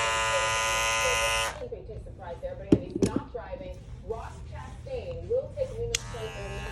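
A cordless hair clipper runs loudly for about a second and a half and cuts off, then someone talks, with the clipper briefly switching back on near the end.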